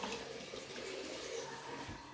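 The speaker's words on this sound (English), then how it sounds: "take a few minutes and drain out the sediment from the faucet" Water runs steadily from a newly installed bathroom sink faucet with the aerator removed to flush out sediment, a close, constant splashing rush into the basin with no voices.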